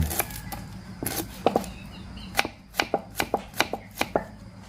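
Shallots are chopped with a knife on a board, giving a run of sharp, close, evenly spaced knocks that come in irregular clusters over faint background noise.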